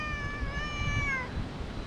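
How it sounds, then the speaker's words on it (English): A stray cat in a park gives one long, drawn-out angry meow, close and fairly loud, falling in pitch before trailing off over light outdoor background noise. "Because you meow so angrily."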